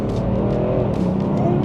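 A stage 1 tuned BMW 435d diesel in sport mode accelerating hard, a loud steady engine drone with rising tone heard from inside the car, continuous with no pauses.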